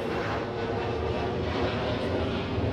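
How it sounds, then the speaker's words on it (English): A steady, loud roar of a jet airplane passing overhead, continuous broadband rumble with no pauses. "These airplanes really interfere with..."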